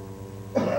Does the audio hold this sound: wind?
no